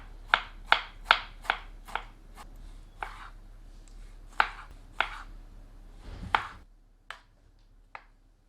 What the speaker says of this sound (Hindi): 100 ग्राम टमाटर को महीन काट लेते हैं।